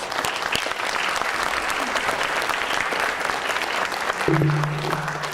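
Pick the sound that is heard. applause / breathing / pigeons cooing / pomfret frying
applause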